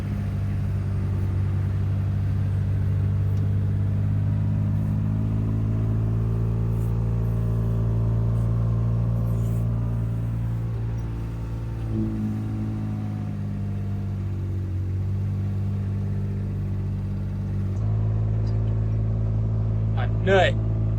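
Farm tractor engine running with a steady low drone and rumble throughout, close by and loud, with people talking over it.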